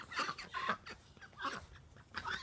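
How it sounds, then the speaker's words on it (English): A flock of hungry morning chickens and roosters clucking close by in quick, overlapping bursts, moderately loud, with no talking. "All the chickens are coming up to me this morning."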